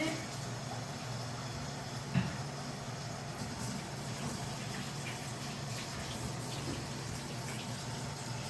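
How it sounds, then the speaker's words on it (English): Kitchen tap running steadily while hands are washed before seasoning a steak, a constant low gush of water at moderate distance throughout with one brief knock near the start. "now let's wash my hands"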